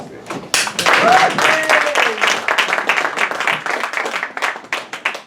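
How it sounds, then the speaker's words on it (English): A room full of people gives a round of applause, loud dense clapping that starts abruptly and then gradually thins out, with a voice briefly heard early on. "we have a proper round of applause to Jason"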